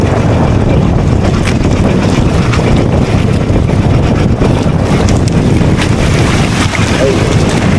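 Boat motor running loud and steady at close range, a continuous rumbling drone blended with wind buffeting and water noise, no pauses.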